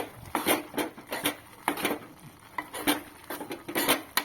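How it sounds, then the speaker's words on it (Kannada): A spoon stirring peanut powder into tomato palya in a pan, with irregular close scraping and clinking strokes against the metal repeating over a few seconds. "1-2 ಚಮಚದಷ್ಟು ಹಾಕಿ ಕಲಸಿ ನೋಡಿ. ಕಲಿಸ್ತಿದ್ದೀನಿ."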